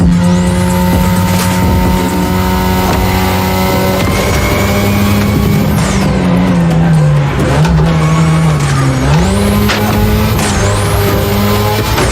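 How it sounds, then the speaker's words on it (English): Engine of a 2002 Mazda RX-7 with a rotary engine in The Crew Motorfest video game, loud and continuous with a constant high rev and shifting pitch, plus long tire squeals that rise and fall. "Tonight your ride is a 3rd gen 2002 Mazda RX-7. Lightweight, compact, a sick rotary engine, and one hell of a look."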